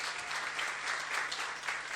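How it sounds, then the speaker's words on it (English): Sustained audience applause fills the space steadily for the whole stretch, a dense wash of many hands clapping at even loudness with no voices over it. "I think that deserves a round of applause."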